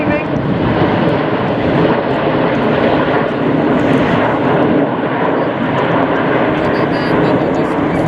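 Red Arrows jets roar loudly and continuously overhead while flying the Eagle roll at an air display, a broad sustained engine rush that fills the whole stretch.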